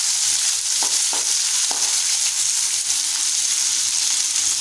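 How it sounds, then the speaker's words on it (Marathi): Crushed garlic and curry leaves sauté in a hot pan for a spicy potato dish, a loud, steady sizzle with a few brief clacks of a spoon early on. "ठेचलेला लसूण घालूया। कढीपत्ता घालूया आणि छान परतून घेऊया।"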